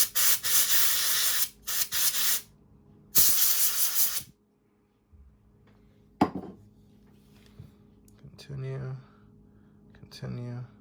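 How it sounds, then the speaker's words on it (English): Bursts of forceful air blown into the earpiece of a used iPhone to clear out gunk, three loud hissing puffs close up, followed by quieter handling clicks and brief talk. "let me see if I can blow that gunk out of the earpiece"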